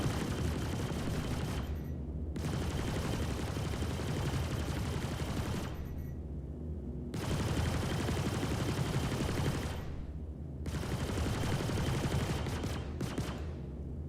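Ship-mounted repeater guns in the space game Star Citizen fire in staggered mode, giving rapid, continuous bursts of gunfire in three long volleys separated by short silences, loud and close with no talking.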